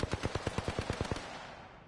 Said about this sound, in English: Go ahead and try to shoot one of the dummies